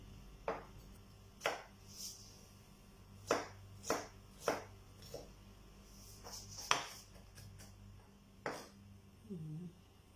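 A knife finely mincing onion on a cutting board for Bicol Express: sharp, separate chops spaced irregularly, a few quick pairs among them, close but fairly quiet against a faint room background.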